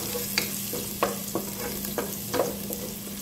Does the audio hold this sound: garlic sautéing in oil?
yes